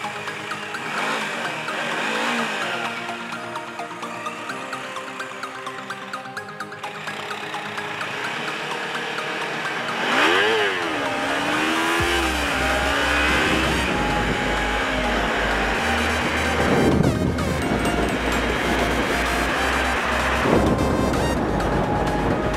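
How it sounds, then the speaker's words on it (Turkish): Porsche Cayenne accelerating hard on a road in Bursa, its engine note climbing and sweeping through gear changes at close range, loud and continuous with wind and road noise throughout. "Gaza geldi Porsche."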